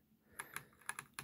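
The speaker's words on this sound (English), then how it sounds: "So this is a blue key switch" Blue mechanical key switches click in a short run of about six crisp, sharp taps with uneven spacing, close and fairly quiet, with no voices.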